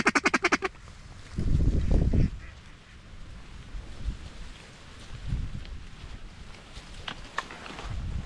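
Mallard ducks quacking over a flooded cornfield during a duck hunt: a quick burst of loud, rhythmic quacks opens, then scattered calls follow amid soft rain-like ambience and low rustling.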